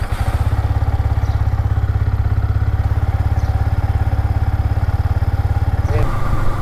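A Yamaha MT-15 motorcycle engine chugs in an even, rapid idle pulse, close and loud, then rises into a short rev near the end.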